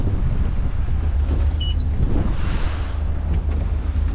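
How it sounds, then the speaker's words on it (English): Boat riding through a choppy sea toward the wake of a Princess motor yacht, with heavy wind buffeting the microphone, a steady low engine drone and a rush of water and spray beneath it. "this is choppy out here, and we're about to hit the wake of that Princess as well"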